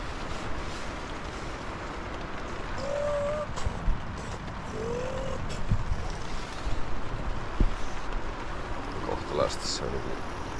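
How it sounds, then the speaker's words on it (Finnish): Strong, steady wind roars outdoors in the Vätsäri wilderness near a tent, a continuous broad rush with a few faint whistling tones and no talking. "Aika kova on tuuli."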